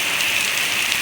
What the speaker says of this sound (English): It's a heavy rain on now.